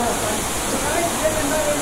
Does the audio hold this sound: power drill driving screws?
no